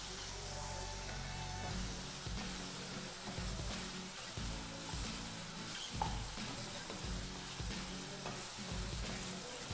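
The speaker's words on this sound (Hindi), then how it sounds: "अब इसको अच्छे से इसकी भुनाई करेंगे।" Chicken stir-fried in a pan with a little chicken powder, a steady close sizzle and frying hiss broken by repeated scraping stirs at a regular pace, with no talking.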